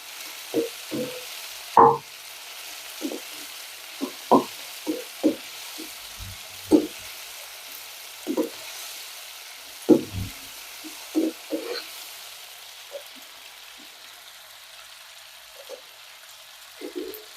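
Tomatoes sautéing in oil in a pan give a soft, steady sizzle, broken by intermittent scraping and stirring knocks from a utensil at close range.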